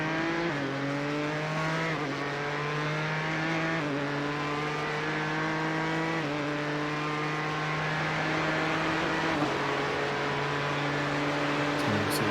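Race cars circling Virginia International Raceway in a sim racing game, engines droning steadily and close with repeated stepped upshifts and downshifts through the corners, continuous and alone without voices.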